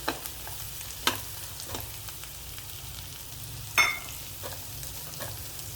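Chopped carrots and mixed vegetables frying in a pan for a salad give a steady soft sizzle, with two sharper stirring scrapes breaking through.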